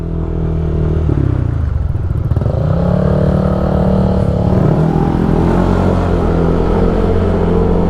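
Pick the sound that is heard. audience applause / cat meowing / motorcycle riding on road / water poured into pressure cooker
motorcycle riding on road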